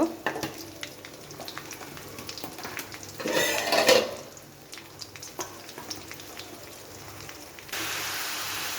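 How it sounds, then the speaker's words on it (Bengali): Sliced green chilies frying in a pan for a pumpkin dish, a soft sizzle with a louder burst of crackling midway and a brighter hiss near the end, close and with no talking. "দিয়ে দিচ্ছি কাঁচামরিচ তিনটে কাঁচামরিচ ফালি করে"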